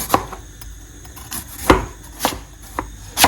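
Yams being peeled with a knife, heard as a few distinct scraping, chopping strokes at irregular intervals, close and fairly loud, no talking.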